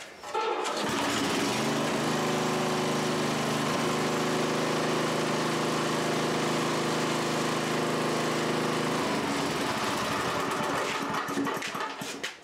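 A freshly serviced rototiller running on old gas starts up and runs, a loud steady small-engine drone held close for several seconds before dropping away at the end, with no talking.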